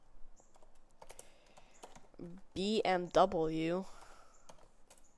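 Computer keyboard keys tap in scattered light clicks while writing Python code, with someone talking over part of the typing.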